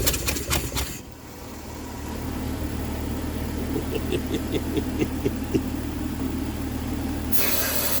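Junkyard-rescued 1966 Dodge Dart engine running rough with no fuel lines attached, a steady close idle drone with faint ticking, beginning after a few sharp cranking bursts and ending with a hissing spray sound.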